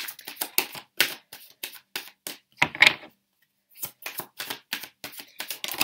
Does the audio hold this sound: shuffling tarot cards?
yes